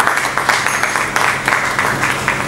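Audience applause at a talk on the maritime industry, a dense, steady wash of clapping from many hands with slight pulsing, close and fairly loud, lasting the whole stretch without speech.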